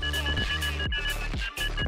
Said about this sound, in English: So this is the sonar that beeps at you.